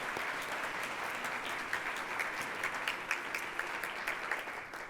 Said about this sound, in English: Let's have another hand of applause for them.